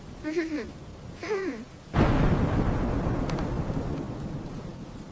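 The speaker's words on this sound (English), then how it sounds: "What if the storm gets louder?" A sudden loud crack of thunder breaks in and rolls into a long, steady rumble of a thunderstorm at night at home, following a short stretch of speech before it.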